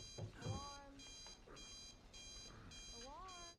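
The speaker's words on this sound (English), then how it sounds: "Does he not hear the alarm? It's so loud." An alarm clock rings in repeated bursts of bright electronic beeping, about four or five evenly spaced pulses, loud and close, with a voice and other tones mixed underneath.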